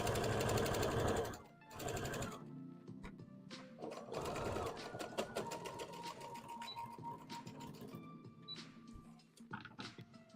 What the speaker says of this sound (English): I sew it down the other way.